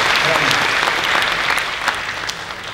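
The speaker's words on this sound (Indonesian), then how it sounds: "tepuk tangan boleh bro" Audience clapping at a live comedy stand-up show, a brief burst of steady applause with a few sharper claps standing out.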